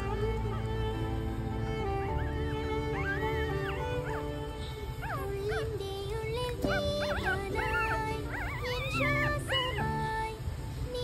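Newborn Lhasa Apso puppies whimper and squeal in thin, wavering cries, several overlapping and rising in pitch in repeated bursts, close and fairly loud over a steady background hum.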